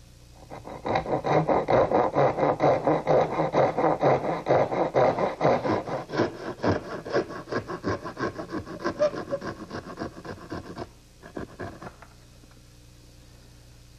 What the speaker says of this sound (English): now I'm just going to cut them with my little dovetailing saw